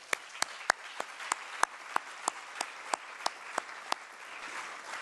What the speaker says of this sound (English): a round of applause for our sponsors, our students, and our faculty planning committee